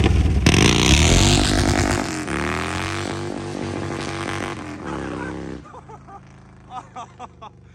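Harley-Davidson Road Glide Twin Cam with an unbaffled, dyno-tuned ThunderHeader exhaust pulls away hard from a dead stop, a loud, deep rising roar that fades into the distance, followed by faint voices.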